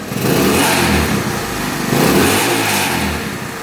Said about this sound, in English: Revving out completely.